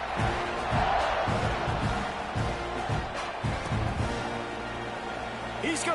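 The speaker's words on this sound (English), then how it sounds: "this crowd is buzzing after that last score" A football stadium crowd at a Nebraska versus Texas A&M game keeps up a constant dense roar, with thumps and scattered shouts, under a play-by-play voice talking throughout.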